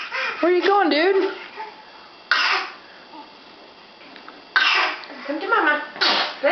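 A toddler's sneeze bursts out amid a mother's coaxing voice and the child's babbling, with a couple of short, sharp explosive bursts standing out over nearby talk indoors.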